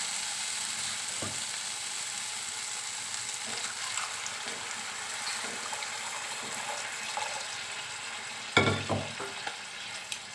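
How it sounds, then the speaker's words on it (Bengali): Water is poured into a pan of fried squash and dal, a steady hissing sizzle with a loud splashing burst near the end and scattered spoon clinks, close and unaccompanied by talk. "সব কিছু বেশ ভালোভাবে ভেজে নিয়েছি। এবার এর মধ্যে দিয়ে দেব জল।"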